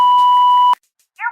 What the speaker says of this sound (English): now go ahead and leave your question at the sound of the beep.